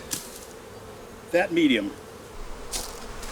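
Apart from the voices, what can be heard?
honey bees buzzing around a hive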